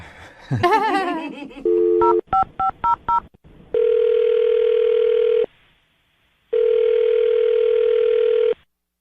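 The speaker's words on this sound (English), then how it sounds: "I'm dialing her phone number right now." A telephone call is being placed. After a brief burst of laughter, a string of touch-tone dialing beeps sounds, then two long, loud electronic ringback tones follow, each separated by silence.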